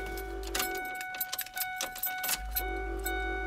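An ignition key turns in a Ford F650 truck with an Allison transmission and a no-crank, no-start fault. Keys jangle and click in a brief flurry over a steady low hum, and the engine never turns over.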